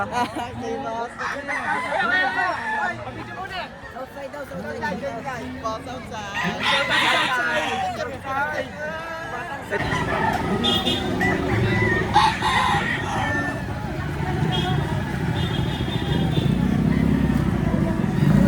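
Roosters crow repeatedly nearby at a chicken market in Lipa, Batangas, one drawn-out call after another, over a constant background rumble.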